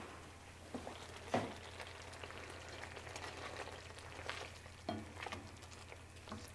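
Rotisserie chicken and fire cider mixture cooking down in a pan, giving a faint, steady sizzle and bubbling with a few soft pops and clinks, no voices.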